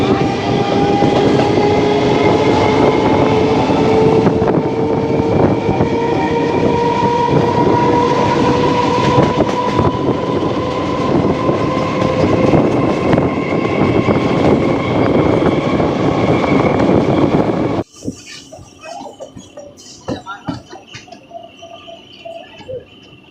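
Loud, continuous rumble and rattle of a moving train on the Krishnanagar to Murshidabad line, heard from inside, with a steady whine that stops abruptly near the end, leaving quieter clicks and background noise.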